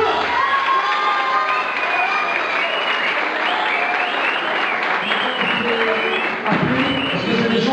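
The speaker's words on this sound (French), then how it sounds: "j'ai chauffé les mains et applaudir comme il se doit, Monsieur Thierry Poulain" A crowd at a cage fighting event applauds steadily, with cheers and shouts mixed in, a dense, sustained wash of clapping that carries through the whole stretch without a break.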